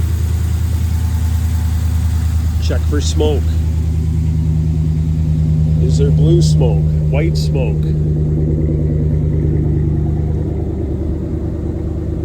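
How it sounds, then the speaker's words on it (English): A car engine idles steadily after startup, a close low rumble running throughout while someone talks over it. "start the vehicle up. What does the engine sound like?"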